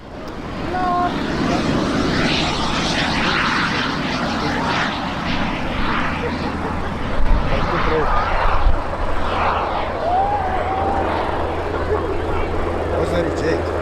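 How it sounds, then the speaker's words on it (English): Aircraft flying a display at the Middelburg Airshow in Mpumalanga, South Africa, a steady propeller-engine drone passing near and far with brief swells, under a commentator's talk over the loudspeaker. "Beautiful display from John Timms, waving to us from the cockpit of his aircraft."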